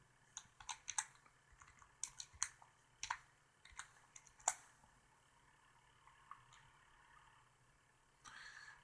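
Soft, irregular clicks of computer keyboard keys come in quick bursts with short pauses, quiet and close in a still room.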